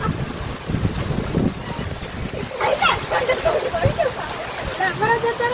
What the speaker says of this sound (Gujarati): નકરું પાણી પડતું હોય એવું લાગે છે